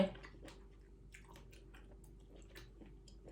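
Steamed shellfish being chewed close to the mic, soft wet squishing and biting sounds repeating quietly, with no talking.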